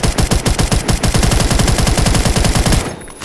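Type 20 gun firing in the video game Phantom Forces: a rapid, continuous automatic burst of loud, evenly spaced shots lasting nearly three seconds, then stopping abruptly.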